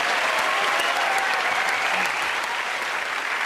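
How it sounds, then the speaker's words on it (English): A comedy panel show's studio audience claps steadily and densely throughout, with no voices over it. "Give a round of applause to everyone there."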